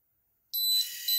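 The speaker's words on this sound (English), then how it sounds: "These have a little alarm in them." A Yolink water leak sensor cable's built-in alarm starts abruptly after a moment of silence, a loud, shrill, high-pitched electronic tone that keeps sounding steadily to the end.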